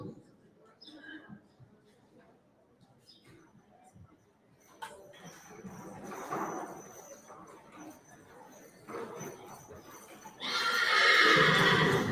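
A Haflinger horse at a registry sale in Ashland, Ohio whinnies, with hoof clip-clops and a loud, drawn-out neigh near the end, while an announcer talks over the arena noise.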